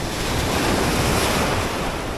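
Ocean waves on a shore at a camp fishing spot, a constant loud roar of surf mixed with strong wind buffeting the microphone, steady and close with no pauses.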